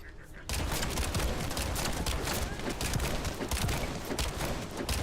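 Rapid sustained gunfire in the video game The First Descendant, a revolver hand cannon amid dense crackling shots that start abruptly after a quiet half second and stay loud throughout.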